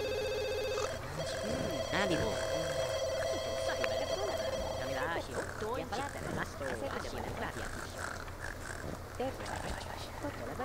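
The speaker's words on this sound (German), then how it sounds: "Ach, das Telefon, ne, ey. Voll nervig." Telephone ringing in The Sims 2, a repeating electronic ring tone over game music and ambience, fading partway through as play continues.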